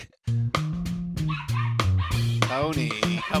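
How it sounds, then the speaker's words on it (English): A dog barks in short, repeated yips and bow-wows with whimpering tones, loud and close, alongside tonal music-like harmonics throughout. "Is that my dog?"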